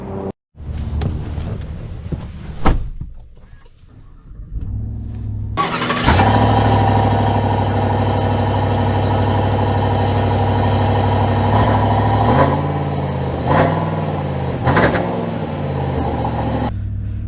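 A 2024 Chevy Silverado 1500 LTZ pickup truck starts up and pulls away, its engine turning over and then holding a loud, steady drone up close, with a few rises in revs toward the end; no voices.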